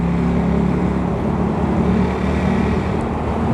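A Honda Grom motorcycle engine drones steadily during a ride, a loud, continuous low hum with wind rush and no break in the note.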